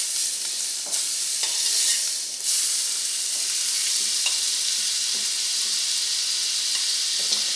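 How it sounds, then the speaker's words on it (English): Butter sizzles loudly in a skillet with a dense, continuous hiss close up, and a few brief stirring scrapes come through. No talk. "I'm going to add about another tablespoon of butter to the skillet."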